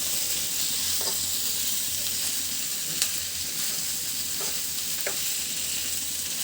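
Mashed fish being fried and stirred in a pan for a Bengali fish bharta, with a steady broad sizzle throughout and a few soft scraping knocks from the spoon, close and continuous with no talk.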